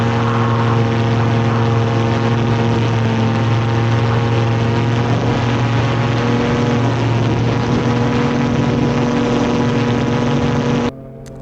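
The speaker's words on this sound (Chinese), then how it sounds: "好了，飞机离地" A homemade ultralight manned aircraft engine drones steadily in flight just after takeoff, loud and continuous with strong harmonic tones, cutting off abruptly near the end.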